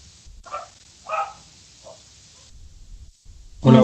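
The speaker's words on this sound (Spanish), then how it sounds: "Cami, córreme ese perro a la ventana que está bien ahí, se escucha todo." A dog near a window gives three short, distant barks, evenly spaced over quiet room noise. A louder close sound cuts in at the end.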